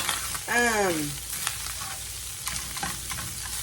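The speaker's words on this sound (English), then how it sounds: "So let's get this meat finished browning." Ground meat seasoned with salt, pepper, garlic powder and cumin browns with onions in a pan for a Southwest enchilada casserole, giving a steady close sizzle with brief stirring scrapes; a voice-like tonal sweep cuts in briefly near the start.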